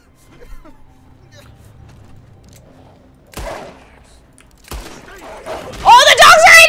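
Gunshots in Red Dead Redemption 2, a few sharp cracks spaced apart amid quiet ambience, then a loud burst of noise near the end, with a voice talking at points.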